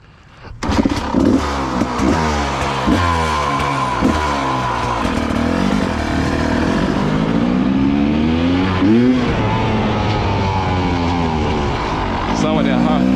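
A GasGas 300 dirt bike is kick-started hot with one kick, then idles and revs loudly up close in rising and falling bursts for several seconds, with someone speaking over the engine.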